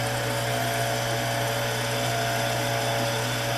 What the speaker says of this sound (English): We'll get her cranked up and start drilling.